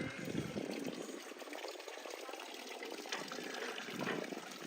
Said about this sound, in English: There's another fountain here. As you see, there's lots of water springing in Castelo de Vide.